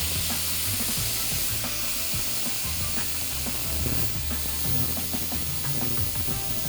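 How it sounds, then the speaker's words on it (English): Food frying in a pan, a steady broadband sizzle and crackle throughout, close and fairly loud with no talk over it. "they're starting to sizzle"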